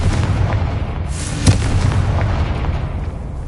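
A Confringo fire-blast spell in the video game Hogwarts Legacy goes off with one sharp, loud explosive crack at about the midpoint, set in a dense, rumbling bed of continuous game noise.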